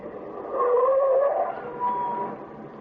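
A car driving along a lonely road as a radio drama effect, a steady engine drone that swells, wavers in pitch, then settles, with no voices.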